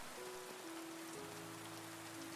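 Steady rain patters through a quiet night in a village, a soft, even wash of falling drops under faint sustained background tones, with no voices.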